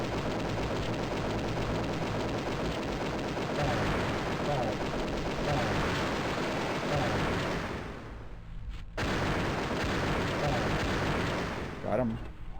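Sustained, heavy gunfire from the video game L for Liberty, with dense overlapping shots and bursts nearly continuous throughout, a brief lull just before the ninth second, then the barrage resuming loud and close.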